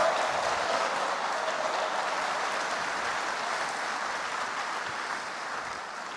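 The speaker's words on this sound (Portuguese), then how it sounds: "Dê para Jesus uma forte salva de palmas." A church congregation bursts into strong, sustained applause, a dense wash of clapping that fills the room at full loudness for several seconds before easing off slightly, with no voice over it.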